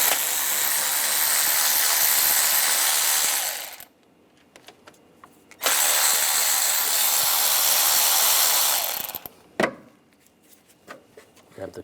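A 10mm socket, driven in two long whirring bursts, backs out two upper bolts on a 2009-2013 BMW 328i xDrive 3.0L inline-six during a water pump job. Each loud, close run lasts about four seconds, with a quiet pause and faint clicks between.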